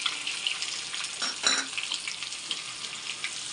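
Soft, steady sizzle of mustard seeds, cumin and dried red chillies frying in oil, with a brief louder burst of crackling partway through.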